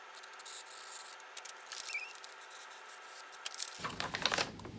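Scissors snip through craft material, cutting roughly along outlined shapes in a series of quiet, close crisp cuts and light rustling, ending in louder handling and crinkling.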